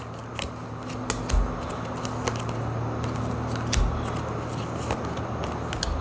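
Mermaid tarot cards are handled and shuffled at close range, with crisp papery snaps and flicks scattered irregularly over a steady low background hum.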